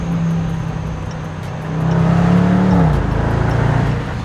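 A supercharged V8 in a 2020 Range Rover Sport revs hard, its deep engine note climbing and swelling loudly before settling back into a steady, rumbling idle.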